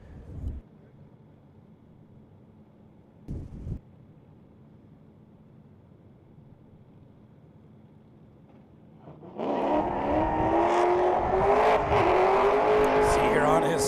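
A drift car on its qualifying run at Holley LS Fest West bursts in after near silence, its V8 engine revving loud and aggressive with tire noise, while a commentator talks over the quiet stretch before it.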